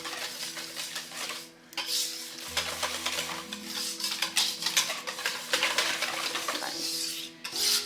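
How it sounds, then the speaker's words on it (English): Eggs being whisked and mixed in a bowl while cooking for Thanksgiving, a steady close scraping and stirring sound running throughout with brief pauses, over faint kitchen background. "Get our eggs really nice and mixed in."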